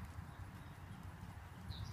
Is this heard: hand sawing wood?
no